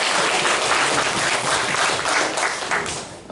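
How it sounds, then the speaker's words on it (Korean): Sustained applause from a church congregation during a Sunday worship service, dense and steady throughout, loud and close, tapering slightly at the end. "모두를 위해서 큰 박수 부탁드리겠습니다."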